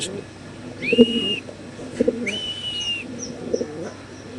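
Pigeons at a market selling birds in bulk coo in soft, low, repeated phrases, close by. A thin whistle-like tone and faint background voices sit underneath.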